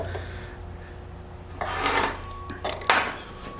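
Bars being taken off a Warn M-series winch: scraping, rasping metal noise in a couple of louder bursts over a steady background hum, close by and with no talk.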